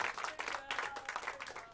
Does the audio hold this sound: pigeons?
no